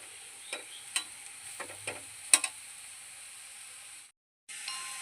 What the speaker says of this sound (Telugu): కలుపుతూ ఉండాలి లేకపోతే మాడిపోతుందండి